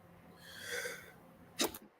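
One person sneezes once, a short, sharp burst near the end after a breathy intake, close to the microphone in a quiet room.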